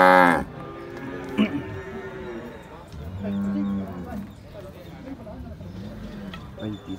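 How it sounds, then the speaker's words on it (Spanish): A bull moos at a cattle market in Santa Rosa de Lima, a loud low bellow opening the clip, followed by further deep moos and livestock calls mixed with crowd murmur and nearby voices. "Miren ese hermoso toro"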